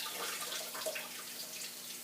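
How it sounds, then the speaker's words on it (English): Tap water runs into an orchid's container at a sink, a steady soft rushing that stays at an even level with no talking. "bring it over the sink. I know you can't see me, but I'm just putting some water."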